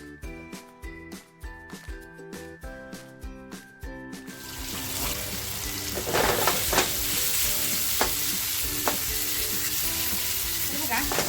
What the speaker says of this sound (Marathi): मस्त अशी ही आपल्याला मच्छी फ्राय करून घ्यायची आहे